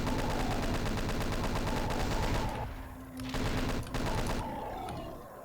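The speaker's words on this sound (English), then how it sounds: "I'm going to swap to the chain gun because I'm low on the shoddy ammo." Chaingun from the game Doom 2 on the map Legacy, firing in rapid repeated shots: a long sustained burst, a brief gap, then shorter bursts that trail off.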